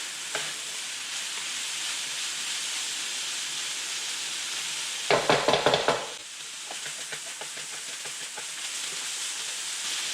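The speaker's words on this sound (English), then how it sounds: "We're going to keep stirring off these vegetables until they're nice and tender without overcooking them." Vegetables being stir-fried in a hot wok for lobster Singapore noodles, a constant loud hissing sizzle with a brief burst of clattering scraping from stirring partway through.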